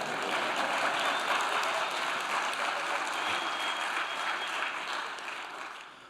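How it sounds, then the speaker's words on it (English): A conference audience at CascadiaJS breaks into sustained applause, a thick wall of many hands clapping that holds steady and then begins to thin and fade near the end. "I'll hold for applause."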